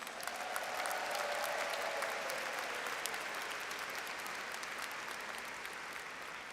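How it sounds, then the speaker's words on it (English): A large audience at the Wharton undergraduate graduation ceremony in Philadelphia claps in a sustained, even roar that fades slightly toward the end, heard from some distance. "Please give them a hand of applause."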